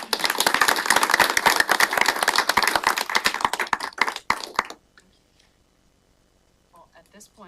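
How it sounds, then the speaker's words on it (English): Applause at a county board of health meeting: dense, loud clapping from a room full of people that goes on for several seconds, then stops abruptly, followed by near silence and faint movement. "let's give them a round of applause"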